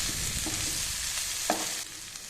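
Fried cauliflower for a spicy cauliflower fry is tossed and mixed in a hot pan, giving a steady close sizzle broken by a few soft scraping clinks of the spoon.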